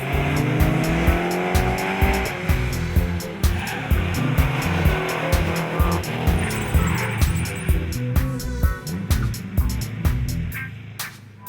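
An imposing Mercedes 250 SE races around a karting track, its engine roaring steadily and loud throughout with repeated tire squeals and skids as it corners.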